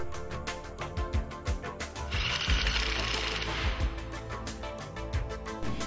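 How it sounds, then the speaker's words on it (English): A ratchet socket wrench with an 8 mm socket clicks rapidly while tightening the oil filter cover bolt on a Suzuki Access 125 scooter engine, close and steady with bursts of brisk pawl clicking. "Tighten the bolt on the oil filter cover using an 8 mm socket."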